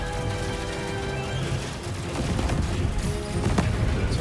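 Continuous shooting in the space shooter Cygni: All Guns Blazing, a dense unbroken wash of rapid weapon fire and booming impacts layered over sustained musical tones, loud throughout with a few sharper blasts near the end.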